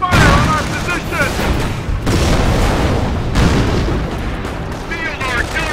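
Artillery fire and explosions in a Company of Heroes battle, loud dense booms and rumbling blasts running throughout, with radio-style voice lines and shouted unit callouts layered over the din.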